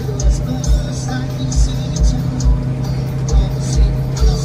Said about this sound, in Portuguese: Agora eu vou parar o carro